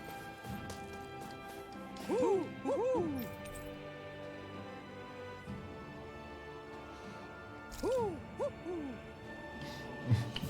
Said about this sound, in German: Wenn die so ein Geräusch macht, dann müsste, glaube ich, hier in der Nähe eine Eule sein.